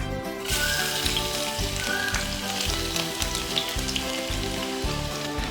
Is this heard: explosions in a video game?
no